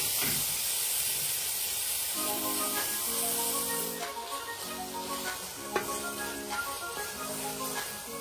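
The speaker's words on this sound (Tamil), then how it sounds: "இப்போ நான் 3 தக்காளி எடுத்திருக்கேன், அது இது கூட ஆட் பண்ணி நல்லா வதக்கிக்கலாம்." Onions with three tomatoes sautéing in a pan, a continuous hissing sizzle with intermittent stirring scrapes and a clink, close and fairly loud with no voices.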